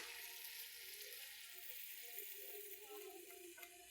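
Food fries in hot oil with a steady, close, broadband sizzle that hisses and crackles without a break, no voices over it.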